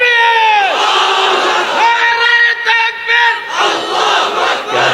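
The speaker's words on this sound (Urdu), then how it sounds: "تم ہی لوگ اگر نعرے لگاؤ گے تو بولنے والا کیا بولے گا؟" A large gathering chants Nara-e-Takbir slogans in loud, sustained unison, rising and falling call-and-response waves of voices close by, filling the space with repeated chanting.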